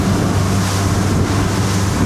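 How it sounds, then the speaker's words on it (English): Waves break in a shallow North Carolina inlet as a boat runs through, a loud continuous wash of surf blended with engine rumble and wind buffeting the microphone. "I can see the waves starting to break to the right"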